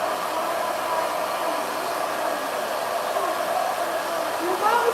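A hair dryer fitted with a diffuser blows steadily while drying curly hair, a constant loud airy whoosh lasting the whole stretch with no pauses.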